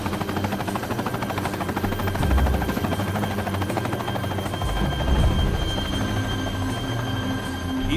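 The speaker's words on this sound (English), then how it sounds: "Even with air protection, it's deafening inside the aging C-46 helicopter." Inside an aging C-46 helicopter in flight, a deafening, steady rotor and engine drone fills the cabin with a rhythmic beating throb that swells slightly now and then.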